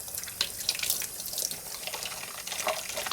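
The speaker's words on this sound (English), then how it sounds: "use lukewarm water to rinse them off" Makeup brushes rinsed under lukewarm water from a running tap, a steady hissing splash with a few small drips and splatters, close and continuous throughout.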